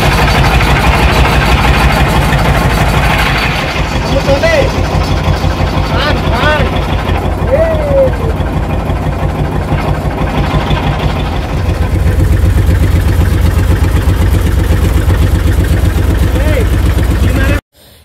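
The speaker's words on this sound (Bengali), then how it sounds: "এই যে আমাদের নৌকাটা চলা শুরু হয়ে গেছে" A passenger boat's engine runs loud and steady as it sets off from the ghat in Rangamati, a continuous droning throb with a brief voice over it.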